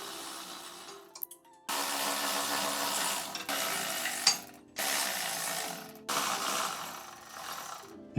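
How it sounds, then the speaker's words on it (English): A ratchet spins flex disc bolts loose on a Mercedes S-Class driveshaft, four long bursts of dense rapid clicking separated by short pauses, close and loud with no talk. "Now I just have to remove the other 5 bolts."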